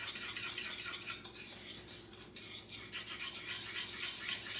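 A whisk scraping and swirling through thickening pudding in a pot, a steady continuous rasping stir with soft metallic rubbing, close and fairly quiet with no talk.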